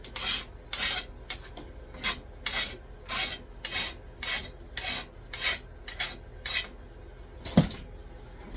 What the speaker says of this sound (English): We'll sharpen our pressure flaker up a bit here.